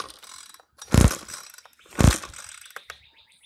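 A small engine's starter cord, with a spark tester attached, is yanked twice, each pull a sharp, loud ratcheting whir about a second apart, with faint mechanical clicks in between.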